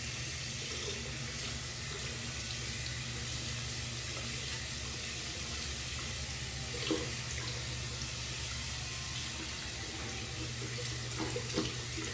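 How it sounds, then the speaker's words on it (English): A shaving brush, a badger knot, is rinsed under a running tap at a truck stop sink, the water flowing in a steady hiss for the whole stretch, with a few small splashes and knocks as the brush moves through the stream. "Just rinse it a little bit, I'll rinse it out right now"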